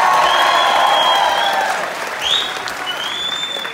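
Loud concert audience applause at an indoor show in a park venue in Hoorn, a dense steady clapping with some whistles rising above it, easing slightly partway through.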